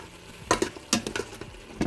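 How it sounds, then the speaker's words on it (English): A spoon stirs chicken curry with potatoes in an Instant Pot, giving four or five sharp scraping clinks against the metal pot over a faint sizzle, close and fairly loud, with no voices. "Give it a little stir here"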